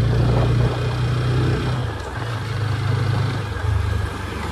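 A TVS Apache RTR 160 4V motorcycle with a 160cc engine runs nearby with a low, throbbing idle that dips and swells slightly, alone with no voices.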